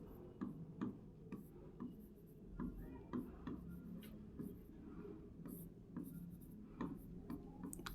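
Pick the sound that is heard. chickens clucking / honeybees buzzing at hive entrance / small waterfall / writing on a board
writing on a board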